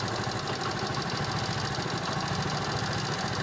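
A Honda motorcycle engine idles steadily during a slow-idle screw adjustment, a close, even mechanical chug with a faint knocking rhythm and no voices.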